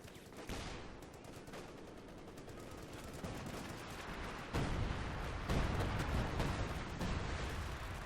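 A time-on-target artillery barrage in the Company of Heroes 2 strategy game brings a dense rumble of overlapping shell blasts and gunfire. The bombardment swells louder partway through and carries on without pause.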